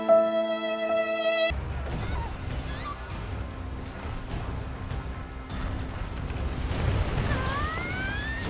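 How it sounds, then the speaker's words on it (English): Rough ocean waves in the game Monster Hunter World, a constant rolling wash of surf with a low rumble, joined by soaring game music tones and cries, with no talk. "we reach some rough waves and some jagged rocks"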